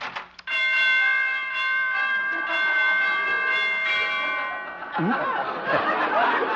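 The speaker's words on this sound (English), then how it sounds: "Door chimes need tuning." A chime rings out and sustains with long overlapping tones, while voices chatter and chuckle underneath and grow louder as the ringing fades.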